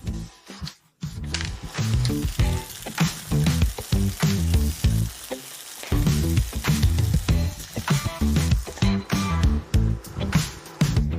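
Fifty grams of butter sizzling in a skillet at medium-low heat with onion, a crackling fry broken by bursts and short pauses, as if stirred or shifted, no talk.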